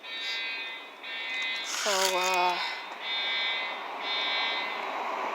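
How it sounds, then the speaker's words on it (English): Fire alarm sounding through a building, a steady high-pitched buzzing tone that continues throughout, with a brief voice speaking over it partway through. "y'all hear the alarms going off."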